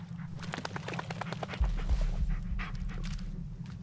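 A dog in the Blair Witch video game pants in quick, rhythmic breaths over a low rumbling game ambience, with a few heavier thumps partway through and no talking.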